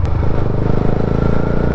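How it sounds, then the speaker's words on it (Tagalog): A Yamaha Sniper 150 motorcycle fitted with a Gori pipe exhaust idles loud and close, a steady throbbing rumble with rapid even pulses and no talking. "Wala ko malalaman kung anong tunog nitong Goripipe sa Yamaha Sniper 150."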